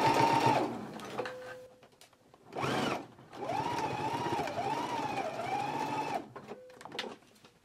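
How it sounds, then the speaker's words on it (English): A home sewing machine stitches fabric in several bursts while a garment facing is sewn and back-stitched. Its steady whirring motor hum runs near and clear, with short pauses and restarts between runs and no talk over it. "put my needle right back down there, back stitch, and continue stitching"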